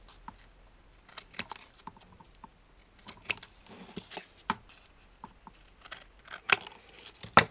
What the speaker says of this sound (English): Sometimes it's just easier to use a pair of scissors.